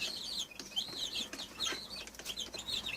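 Hens with their 11–12 day old chicks on a Turkish farm, soft high peeping and clucking in quick irregular bursts with some wing flapping, faint and fairly close, no talk.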